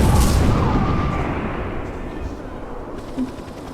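Explosion in the IGI video game, a loud broadband blast at the start that rumbles and decays over several seconds, with a brief thump near the end.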